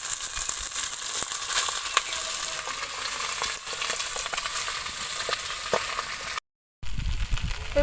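Cooked rice stir-fried in a hot pan for fried rice gives a continuous close sizzle with scattered scraping and stirring crackles, briefly cut out near the end, no talk.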